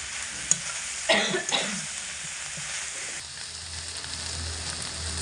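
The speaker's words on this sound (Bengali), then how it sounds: "মিডিয়াম টু লো আঁচে রেখে এটাকে ভেজে নিতে হবে, মাঝে মধ্যে নাড়াচাড়া করে" Vegetables sizzle steadily in a pan on medium-low heat, with a couple of sharp scraping stirs early on and a constant close frying hiss underneath.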